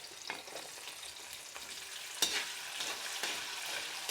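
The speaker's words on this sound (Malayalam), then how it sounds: "ബീഫ് വറുത്ത് കോരിയ എണ്ണയിലാണ് വെളുത്തുള്ളി ഇട്ട് വറുക്കുന്നത്" Garlic frying in leftover oil from frying beef for beef pickle, a steady crackling sizzle with brief stirring clatters, heard close and alone.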